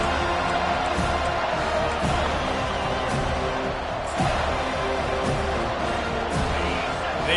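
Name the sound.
football stadium crowd noise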